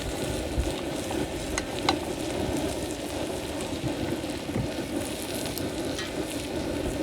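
Green chili gets stirred into frying calabacitas, a dense, even sizzle like rain under occasional scraping and clinking of a utensil against the pan, close and continuous.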